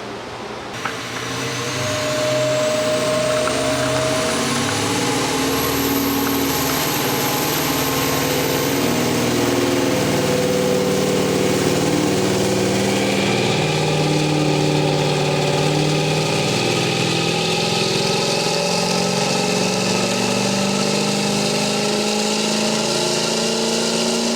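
A Duramax diesel truck engine fitted with a 3-inch aftermarket downpipe runs on a dyno, a loud, continuous drone whose tone climbs gradually through the run, with no talking.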